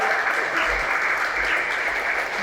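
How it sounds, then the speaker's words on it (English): An audience at a smart cities roadmap launch gives a round of applause, a full, steady stretch of many hands clapping with a low murmur beneath. "I want to just do a quick round of applause for Centro, our partners who made this possible."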